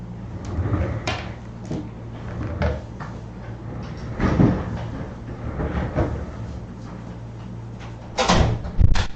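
A door is opened indoors in a home office to let a dog out, with clunks and soft bumps of handling spread across the stretch under a steady low hum and room noise.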